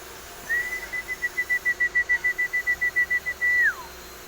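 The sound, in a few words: whistle calling birds to feed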